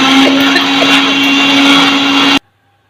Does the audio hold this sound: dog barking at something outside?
no